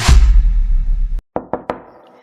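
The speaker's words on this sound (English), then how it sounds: "I knocked on Ethan's door that evening and let myself in." Knocking on a bedroom door: after a loud muffled thump, three sharp knocks follow in quick succession, close and distinct, fading into a quiet room.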